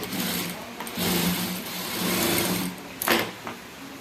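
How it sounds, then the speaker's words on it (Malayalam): A sewing machine stitching a dart on a blouse runs in short steady bursts with a humming motor and rapid needle rhythm, stopping and restarting at close range. "സെൻറ്ററിലെ ഇവിടുത്തെ ഹൂക്കിൻ്റെ ഭാഗത്ത് ഡാട്ട് നമുക്ക് സ്റ്റിച്ച് ചെയ്യാം."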